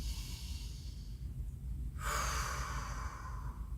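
A slow, deep breath is taken and then released through the mouth, the exhale a broad, airy rush that rises suddenly midway and holds steady, close and alone with no talk.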